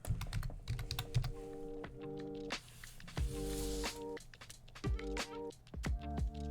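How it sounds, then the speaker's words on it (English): Rapid clicking keystrokes on a computer keyboard while typing a name into a search field, coming in uneven bursts with short pauses, close and fairly clear. "let's type in Alexander"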